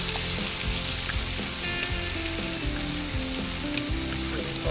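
Minced garlic, mushrooms and Dijon mustard sizzling in a pan for a mushroom garlic pork chop gravy, a continuous close crackling fry with light stirring, no voices.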